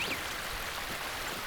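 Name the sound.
flowing stream water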